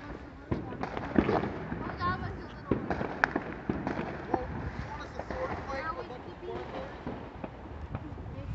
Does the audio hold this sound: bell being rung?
no